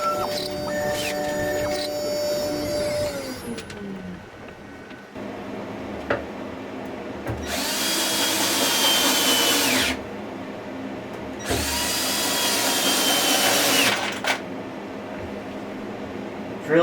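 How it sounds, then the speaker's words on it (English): A power drill, sounding worn, whirs in two bursts of several seconds each, with a gritty, crunchy grind, separated by quieter pauses and faint ambient noise. "Drill sounds a bit crunchy"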